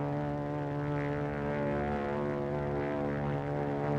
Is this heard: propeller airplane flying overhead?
yes